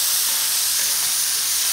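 Bacon browning in a pan, a bright, steady close-up sizzle with a dense hiss that goes on without pause.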